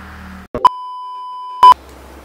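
An outgoing phone call gives one steady electronic ringing tone lasting about a second, loud and clean, framed by brief clicks and low line hiss.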